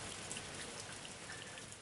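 A summer shower runs off the eaves in a steady, soft patter of drops, a faint continuous wash of rain heard alone for a couple of seconds.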